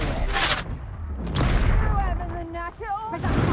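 Confringo and Incendio fire spells cast in the video game Hogwarts Legacy: short explosive bursts and crackling whooshes in quick succession, followed by a voice talking over softer game noise.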